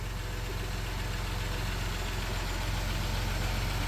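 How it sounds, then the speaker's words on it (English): A '91 Dodge Caravan engine idling quietly after sitting unused for 19+ years, a steady, even mechanical hum with a fine rhythmic tick, close up and unbroken. "Listen to that motor."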